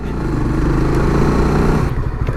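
A Yamaha NVX V2 or Honda RS150 V2 motorcycle engine runs loud and close with a steady rumble and slight revving, then eases off near the end.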